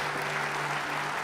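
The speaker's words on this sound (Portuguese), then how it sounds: "Mais uma salva de palmas para os pais," A church congregation claps for the fathers in a brief, even burst of applause that fills the space, with a low steady hum beneath.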